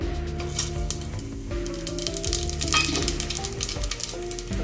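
Whole pulao spices such as star anise and wild cloves hit a hot pan over low flame, giving a steady close sizzle and crackle with faint stirring, alone without speech.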